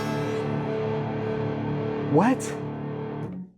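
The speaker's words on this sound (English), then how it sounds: "We get more distortion from turning the tone to 0?" Distorted electric guitar played through an amplifier with the master tone knob turned down to zero, a dark, buzzy sustained chord with a quick pitch slide near the end, followed by a short spoken word.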